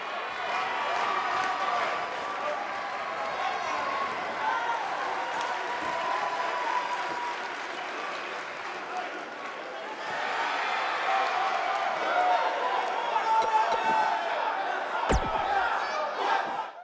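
Arena crowd in the wrestling video game WWE 2K19, a dense, steady roar of cheering and chanting that holds throughout and swells slightly midway, with a sharp knock near the end.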